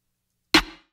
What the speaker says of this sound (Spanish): y un snare.